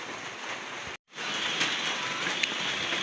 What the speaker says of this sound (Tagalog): Walang tigil po yung ulan, walang tigil. Walang tigil ang ulan.